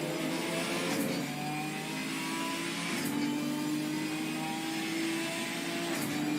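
A race car in Assetto Corsa Competizione at Snetterton, whose engine revs loud and steady with rising pitch and brief dips at the gear shifts about every two seconds, and no talk over it.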